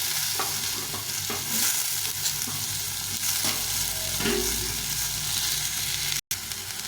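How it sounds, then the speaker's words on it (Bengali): Potato pieces and drumsticks fry in an oiled pan, making a loud continuous sizzle with occasional scraping stirs close by and a brief cut near the end. "এখন এর মধ্যে আমি সজনাটা দিয়ে দেবো সজনাটাও একটু ভেজে নেবো"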